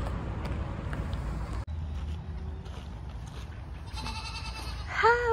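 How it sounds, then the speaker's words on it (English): Goats bleating on a countryside farm, faint and distant under steady open-air ambience and wind, with a clearer nearby bleat at the very end. "We can hear some goats."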